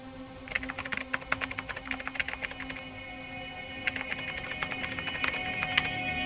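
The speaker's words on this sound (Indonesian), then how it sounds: "Selagi Linda mengetik alamatnya" Quick keyboard typing comes close and clear in two dense bursts with a short pause between them, and no voices are heard.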